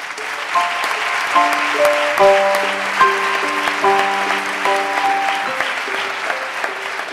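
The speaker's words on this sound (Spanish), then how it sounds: "Me gustaría pedir un aplauso para ellos porque su labor es altamente importante." Audience applause at a sports awards gala in Montijo, a steady wash of clapping sustained throughout with sustained musical tones playing over it.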